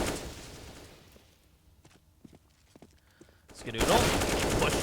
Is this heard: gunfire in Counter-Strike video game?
yes